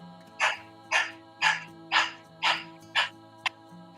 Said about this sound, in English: You're gonna stick your tongue out and start a dog breath.